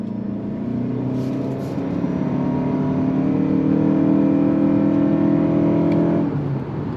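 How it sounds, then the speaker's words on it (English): A 2025 Mazda CX-50 Hybrid's 4-cylinder engine strains under full throttle from a standstill in power mode, its steady drone holding loud inside the cabin for several seconds before easing off. "You could hear that 4-cylinder working."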